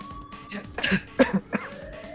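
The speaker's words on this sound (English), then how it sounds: "she's coughing so hard she can't even talk." A female character in the video game Zero Escape: Nine Doors coughing hard after smoke exposure, a few harsh, close coughs and throat-clearing bursts in quick succession.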